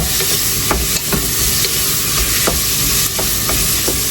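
Chopped onions hit a hot pan and sizzle loudly and steadily, with scraping stirs and light clinks scattered through the frying, and no talk.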